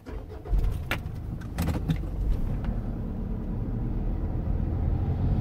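A car engine is restarted right after being switched off: a faint key jingle and a short starter crank, then the engine catches and settles into a steady, close idle rumble.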